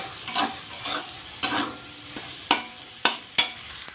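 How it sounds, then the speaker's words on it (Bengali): Small river fish coated in salt and turmeric fry in plenty of hot oil for a fish chorchori, a steady close sizzle broken by sharp crackles and a few scraping stirs at uneven intervals, with no talking. "ছোট ছোট মাছগুলো এই যে ভেজে নিচ্ছি"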